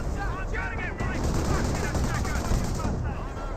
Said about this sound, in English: 25 pounder or Hummel barrage in this region.